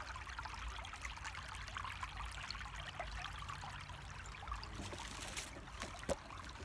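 Soft, steady trickling water with faint bubbling, plus a couple of brief clicks near the end; no talking.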